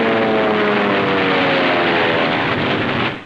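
Propeller warplanes fly over Tarawa in a 1944 wartime newsreel, a loud, continuous droning engine roar that holds steady and then fades at the end.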